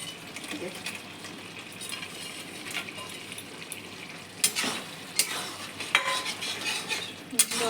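Fried mourala fish dropped into a simmering potato and eggplant vegetable curry, with soft sizzling, a few sharp utensil clacks against the pot and gentle stirring, close and moderately quiet.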